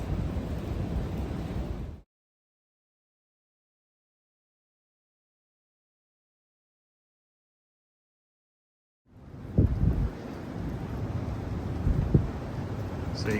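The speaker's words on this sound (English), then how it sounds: "So you can see it's pretty windy outside" Gusty wind roars against the microphone outdoors, cutting out to silence for several seconds before the rumbling buffeting returns.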